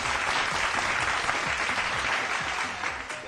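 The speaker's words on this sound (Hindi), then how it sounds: "जोरदार ताली सहित वेलकम करिवि" Loud, dense applause from an audience welcoming guests, steady sustained clapping that eases slightly at the end, with no speech over it.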